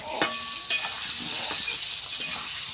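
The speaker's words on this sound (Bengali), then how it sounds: "এবার ভালো করে আলুটা ভেজে নেব।" Potatoes fry in hot oil with turmeric in a kadai for mutton curry, a steady sizzle with a couple of sharp metal clinks and scrapes from stirring, close by.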